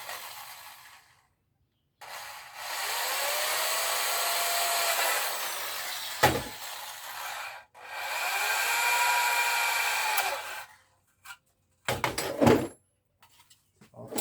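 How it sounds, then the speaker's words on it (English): A power drill whirs in two sustained bursts of several seconds each, drilling two pilot holes with a vise, separated by a short pause, followed by scattered clanks and handling noises. "I'm gonna drill 2 holes in here"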